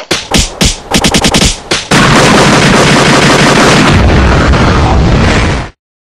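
Rapid bursts of gunfire, several sharp shots in quick succession, then a sustained loud roar of continuous firing that cuts off abruptly.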